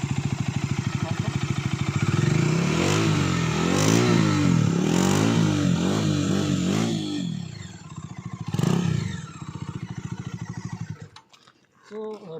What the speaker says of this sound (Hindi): आइए मैं इसका आपको एग्जॉस्ट साउंड सुनाता हूँ